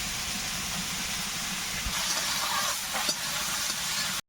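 Bitter gourd slices frying in oil with salt and turmeric give a steady, close, broadband sizzle that hisses evenly throughout, with a few faint clinks of a spatула against the pan and no voices.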